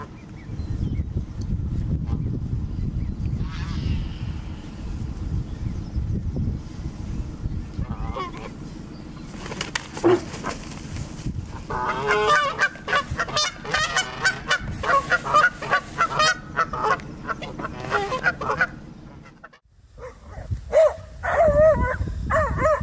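Canada geese honking loudly and repeatedly at close range, with harsh rhythmic calls in bursts over rumbling outdoor noise, and a dog barking among them.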